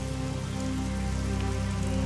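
Steady, dense rain falls continuously and evenly with no breaks, a constant close wash of drops with no voices.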